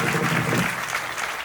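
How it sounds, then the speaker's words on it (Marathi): A crowd gathered for a children's kirtan on Lord Rama's birth in Kedgaon bursts into dense, steady applause, close and loud, holding evenly for the whole moment. "ज्यांच्यामुळे तुमच्यापर्यंत माझा आवाज आला त्यांच्याकरता जोरदार एकदा टाळ्या."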